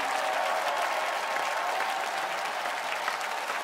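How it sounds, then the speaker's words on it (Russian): A studio audience at a TV singing show final applauds in a steady, loud wash of clapping that stays even from start to finish, with no voices over it. "Юлия Бойко, ваши аплодисменты."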